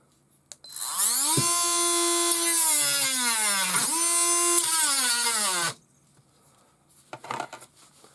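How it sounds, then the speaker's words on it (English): A Parkside cordless rotary tool doing light grinding gives a loud, high motor whine that spins up, sags briefly under load, recovers, then cuts off abruptly, followed by a few faint clicks and handling noises. "So it can do light grinding,"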